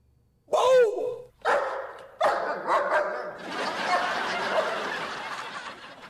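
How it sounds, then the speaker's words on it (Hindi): A dog barks near a house, a few sharp, close barks spaced apart, followed by a busy, noisy background wash. "ये कौन कुत्ता हमारे घर के पास भौंक रहा है?"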